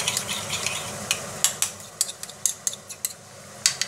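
A spoon clinks and scrapes against the pot while stirring picada into a simmering mussel sauce, with sharp irregular taps over a soft bubbling background.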